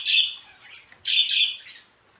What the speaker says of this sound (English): And the birds seem pretty excited.